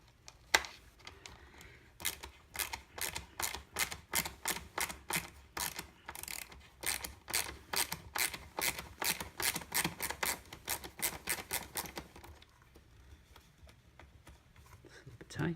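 A screwdriver ratchets out screws from the air filter housing of a Mercedes-Benz B-Class, rapid clicking bursts repeating close up for most of the stretch, pausing briefly before fading near the end.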